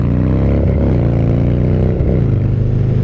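Harley-Davidson Dyna motorcycle engine running loud and close, a deep, throbbing, lumpy idle with brief revs rising and falling, steady throughout with no voices.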